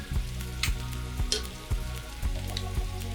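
Pea puree is stirred into rigatoni pasta in a hot pan, a steady close sizzle with a regular thumping rhythm of about two stirs per second and scraping swishes.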